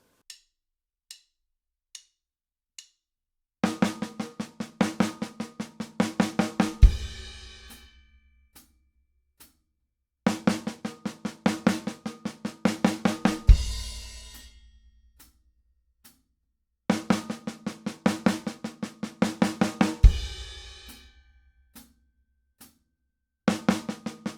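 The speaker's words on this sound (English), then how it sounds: "If we have the double accented paradiddle-diddle within the 16th note fill" Clicks count in, then rapid drum fills of even sixteenth notes in a double-accented paradiddle-diddle sticking roll across the kit, ending on a crash, repeated three times with short pauses.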